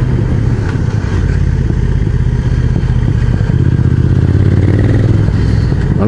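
A motorcycle engine drones loud and constant while riding on a mountain road, low rumbling hum with wind buffeting and faint clatter, steady for several seconds with no speech.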